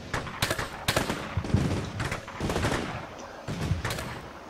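Machine gun fire in the Combat Mission Shock Force 2 war game, a marine ambush at dusk: repeated sharp bursts and single shots crack out over a steady background din, loud and fairly close.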